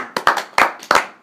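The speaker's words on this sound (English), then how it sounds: "Round of applause." A small group clapping hands in an uneven rhythm, a few sharp claps in quick succession, close and moderately loud with no talk over it.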